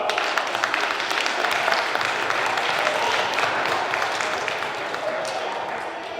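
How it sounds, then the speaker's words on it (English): Sustained applause from school students at a magic show, dense clapping holding steady for several seconds before easing slightly at the end. "Okay, how about a nice round of applause?"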